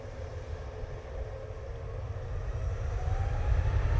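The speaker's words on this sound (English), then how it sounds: "Ryanair, now on the roll off to Nantes" A distant Ryanair Boeing 737 MAX 8 on its takeoff roll at Manchester Airport gives a low rumbling engine drone that slowly swells louder, with no talking.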